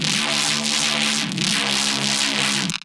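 A synthesizer patch from a track runs through a band-pass filter, giving a dense, sustained tone with low held notes and a rhythmic pulsing sweep. It plays alone and ends abruptly.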